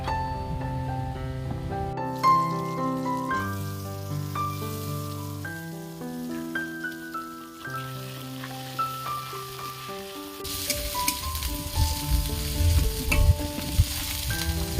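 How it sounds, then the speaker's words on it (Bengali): Music plays throughout, and midway a loud, hissing sizzle bursts in as cut potatoes hit hot oil tempered with dried red chillies and cumin, then keeps crackling steadily. "এবার দিয়ে দেবো কেটে রাখা আলু"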